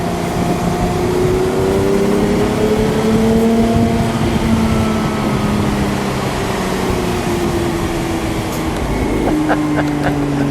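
A blue 2019 Porsche 911 Speedster cabriolet cruises along a winding road, its engine droning steadily with shifting pitch and rising revs, loud and close under open-top wind rush, with no talk.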